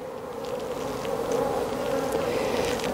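Honey bees drone steadily at an open hive during a spring colony inspection while a beekeeper splits off a swarm. The buzzing is a dense, continuous hum that stays close and grows slightly louder partway through.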